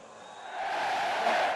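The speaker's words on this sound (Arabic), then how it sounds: "يا ريت نسمع صوت الجمهور يا مخرج." Zamalek football fans in a stadium cheer and roar as a broad, continuous crowd wash that swells louder partway through and holds steady.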